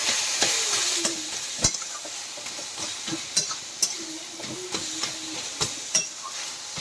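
Red amaranth greens frying in a pan with lentil dumplings, a steady close sizzle and hiss broken by sharp scraping stirs of a utensil against the pan.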